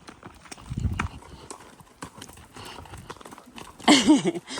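Pony hooves clip-clopping at a walk up a stony, pebbly uphill path outdoors, steady irregular footfalls close by, with a short snort or whinny-like sound and people talking nearby.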